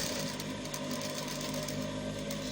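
Sewing machine stitching the cuff of a student school uniform, a steady close mechanical hum with fast repetitive clatter, running without pause or talking.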